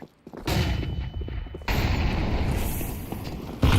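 A flashbang grenade in Counter-Strike 2 bursts with a sharp, loud pop, followed by a sustained ringing hiss and further booming game noise, close and continuous, with no talking over it.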